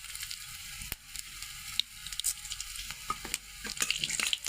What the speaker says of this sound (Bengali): মেথিটা একটু ভাজা হয়